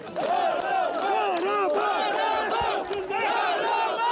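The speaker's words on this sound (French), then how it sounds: "Un bain de foule au cri de Karabakh azerbaïdjanais" A large outdoor crowd in Füzuli, Nagorno-Karabakh, chants loudly in rhythmic unison, welcoming the Azerbaijani president, with steady massed voices and cheering throughout.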